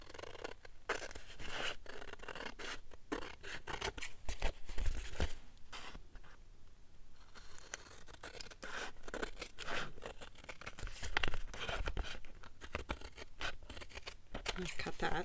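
Scissors snip through paper and envelope material during a paper craft project, quiet, close crisp cuts and rustling scattered through the clip while a person talks over them.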